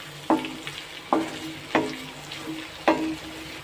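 Bitter gourd thokku sizzling in a pan while a spoon stirs it, with four sharp scraping strokes at a steady, unhurried pace over a continuous low fry, close and clear with no talking.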